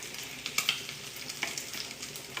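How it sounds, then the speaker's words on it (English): Bacon and minced garlic sizzle in bacon grease in a pan with a steady, fairly quiet hiss and a few small pops and crackles. "We've got our lovely bacon crisping up."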